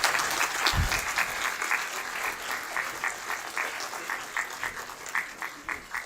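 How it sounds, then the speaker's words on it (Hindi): Applause from a crowd at a book launch event, sustained and fairly even, with a dense wash of clapping that swells into rhythmic, distinct claps toward the end. "मैं ये आपसे गुजारिश करता हूँ कि तालियों की आवाज़ रुकने ना पाए"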